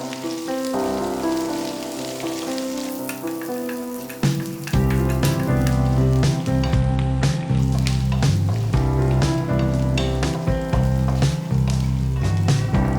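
Ginger, garlic and dried chillies sauté in hot oil for a Kerala-style seer fish roast. A quiet start gives way to a loud, steady, dense sizzle like heavy rain, with stirring clatter near the pan and no talk.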